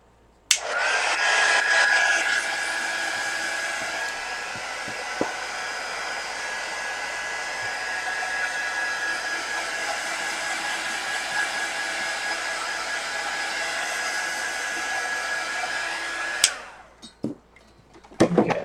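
A hair dryer blows steadily for about sixteen seconds to dry paint, a loud close whine with a high tonal hum that holds level and then cuts off abruptly.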